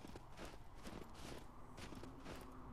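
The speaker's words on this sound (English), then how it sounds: "I love the sound effects of the snow though." Quick crunching footsteps in snow, evenly paced and close, with a steady rhythm and no talking.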